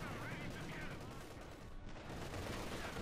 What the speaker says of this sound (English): 45mm gun and the coax machine gun tearing into the Grenadiers